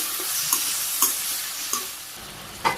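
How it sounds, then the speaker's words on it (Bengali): Okra and vegetables stirred in a pan with salt and turmeric: a steady sizzle of frying with a few sharp clicks of the spatula against the pan, close and alone, with no talking. "লবণ দিলাম পরিমাণ মতো, হলুদের গুঁড়ে সামান্য, নেড়ে চেড়ে দিই,"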